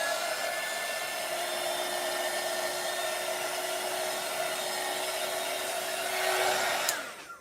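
Heat tool blowing on resin to blend colours, a steady loud whooshing hiss like a hair dryer running continuously at close range, with no talking.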